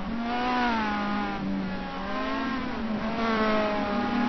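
Stock car race cars battle on the Salvador circuit in 2011, a strong whining engine tone rising and falling as the cars shift and pass, at a moderate distance, with no voices.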